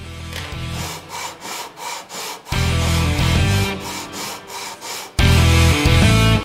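A guitar fretboard radius is sanded by hand with a sanding block, rhythmic back-and-forth rasping strokes on wood, loud and close, with no talk.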